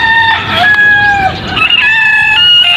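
Native black hens cluck and squawk loudly up close while eggs are gathered from their nest, a continuous agitated string of calls with no speech.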